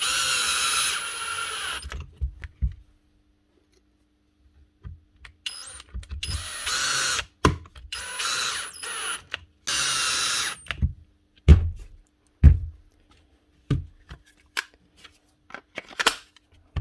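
A cordless drill in screw mode with the clutch turned down drives screws into a replacement handle body on a Dewalt DCF787 impact driver, giving several short whirring bursts separated by pauses and light handling clicks.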